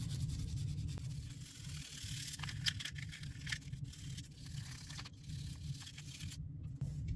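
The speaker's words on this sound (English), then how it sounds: "Scrub everything off." Soft, steady scrubbing and rubbing on a solvent-sprayed Smith & Wesson Equalizer pistol, quiet and close, with a low hum underneath and a few scratchy bursts.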